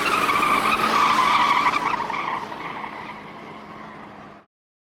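A car speeds away with its tires skidding and squealing, loud and close at first and then fading as it pulls off, with nobody speaking.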